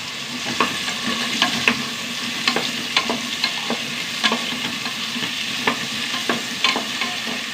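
Three potatoes, soaked for eight hours, sauté in a teaspoon of oil in a pan. A steady sizzle runs under repeated close spatula clicks and scrapes from constant stirring.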